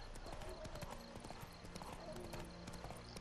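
Roach's hooves clip-clop steadily as the horse is ridden in The Witcher 3: Wild Hunt, a brisk, continuous rhythm close up over an ambient game soundscape.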